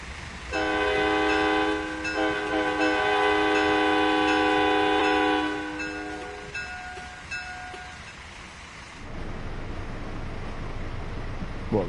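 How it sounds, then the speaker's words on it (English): Horn of an Acela train in the Train Sim World 5 simulator, a loud sustained multi-tone blast lasting about five seconds, then fading into rumbling rail noise as the train continues. "The Acela's a lovely train. Bit noisy"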